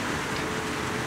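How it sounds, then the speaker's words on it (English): Heavy rain during an Airbus A330 approach into Zurich in X-Plane 12: a steady, dense hiss of rainfall that stays even and unbroken from start to finish. "Heavy rain right now."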